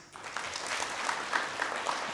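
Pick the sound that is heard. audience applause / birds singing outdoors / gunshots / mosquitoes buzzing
audience applause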